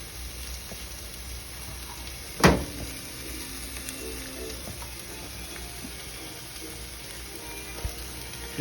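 A sorrel sauce sizzles softly in a pan with a steady, fairly quiet frying hiss, broken once by a sharp clack of the utensil against the pan early on and a fainter tap near the end.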